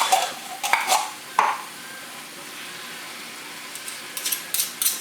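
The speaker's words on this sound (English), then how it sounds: "I'm going to mix them together." Tomato paste being stirred into onions and tomatoes in a pot for Nigerian red stew, with scattered scrapes and clinks of a spoon against the pot, a few sharper knocks early, then quieter soft stirring and light clatter.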